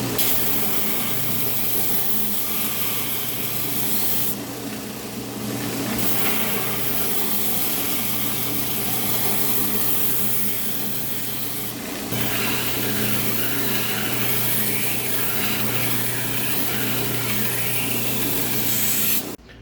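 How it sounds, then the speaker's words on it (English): A new handle material for a knife is ground down to its final dimensions on a grinder, a loud, continuous abrasive rasp holding steady throughout with brief shifts in pressure. "time to grind it down to its final dimensions"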